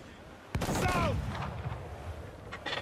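A ship's cannon volley fires in Assassin's Creed IV: Black Flag, a sudden loud boom followed by a rumbling roll of shots and a fading tail, with brief voices underneath.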